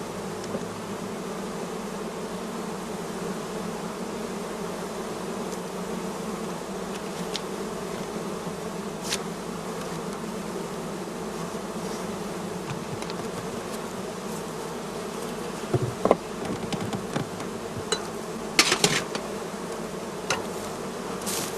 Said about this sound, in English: we open the entrance holes and let the bees fly